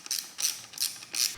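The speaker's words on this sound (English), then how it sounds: "now I'm torquing the forks when they're on the bike" Torque wrench tightening the front fork clamps on a Ducati 996, four crisp ratcheting clicks in an even rhythm, close and quiet with no talking.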